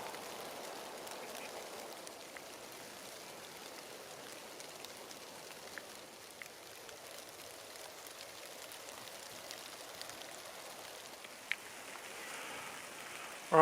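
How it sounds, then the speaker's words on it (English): Steady rain falls outdoors at dusk, a soft continuous hiss with scattered drip taps, faint and even throughout with no voices. "it's getting dark and raining"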